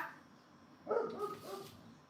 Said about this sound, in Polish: Przyszedł do ciebie piesek.